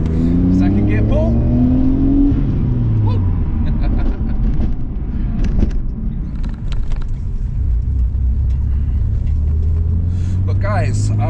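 A Mitsubishi GTO Twin Turbo pulls hard in second gear, its engine note climbing and holding a loud, close rumble over road noise, with someone talking throughout.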